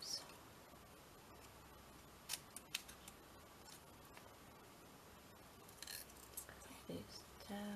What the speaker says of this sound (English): Don't have to use great big scissors, but I like to use big scissors.